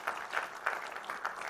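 Audience applause at an IEC general meeting, a thin, fairly faint patter of scattered claps with a loose rhythm, sounding like a small group in a hall.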